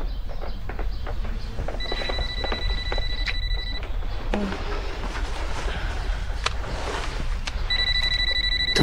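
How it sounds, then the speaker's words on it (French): A telephone rings with bursts of high electronic trilling tones, two clear ringing spells separated by a pause, over low background rumble. "Ton téléphone."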